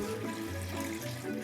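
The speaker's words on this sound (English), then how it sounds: "Begin pouring the water into your toilet bowl." Water from a bucket poured into a toilet bowl to make it flush, a steady close rushing splash that holds for the whole moment without a break.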